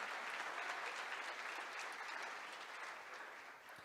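A church congregation breaks into sustained applause, a steady wash of many hands clapping at moderate distance, continuous and even throughout.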